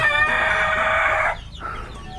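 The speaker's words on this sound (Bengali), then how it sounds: "দেশি মুরগি আর মিশরি ফার্ম মুরগ এগুলো মুরগির বাচ্চা উঠেছে" A hen gives a loud, drawn-out call lasting about a second, then a shorter, softer cry follows, close by with no talking, among desi and Fayoumi chickens and chicks.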